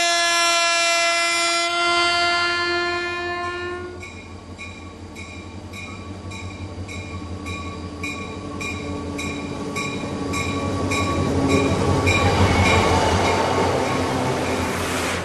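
A train runs along the Carajás railway through Indigenous lands in Brazil, a loud, steady rumble of passing wagons with repeated rhythmic clatter and a rising swell of wheel noise toward the end, no voices.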